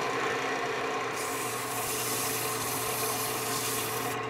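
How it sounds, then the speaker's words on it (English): Steady, continuous abrasive rubbing of sandpaper against a spinning cherry wood candlestick on a lathe, moving through grits from 120 to 400, loud and close without pause and with no talking. "Then I think I'm on to sanding."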